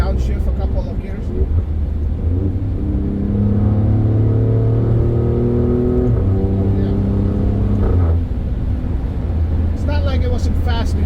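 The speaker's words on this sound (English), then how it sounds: "Let me downshift a couple of gears." Twin-turbo car accelerating hard after a downshift, a loud rising engine drone climbing in pitch through the gear under a voice.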